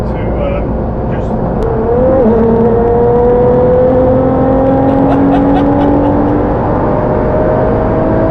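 An 1100 bhp Nissan GT-R accelerating hard in fourth gear, its engine note climbing steadily and loudly throughout.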